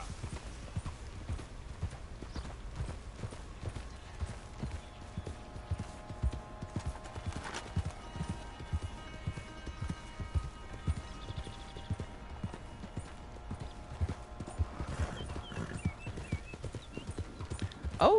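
A horse in Red Dead Redemption II clip-clops along steadily, its hooves thudding in a continuous rhythmic gait, with a brief whinny-like tone partway through and no talking.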